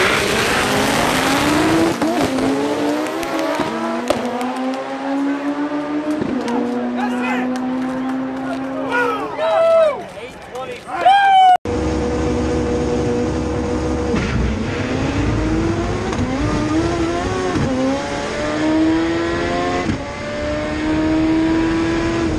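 A K-Series front-wheel-drive Honda Civic drag car races at a drag strip, its engine revving hard through rising gear pulls, loud and close, with a brief cut midway and a second run continuing under faint crowd and talk.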